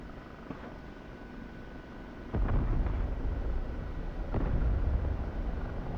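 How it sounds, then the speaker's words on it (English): Rocket impacts from an OH-58D Kiowa Warrior helicopter in DCS World land as deep booming thuds over a continuous low engine rumble, with a larger blast that lifts the drone partway through. "Looks like that first rocket was a good hit."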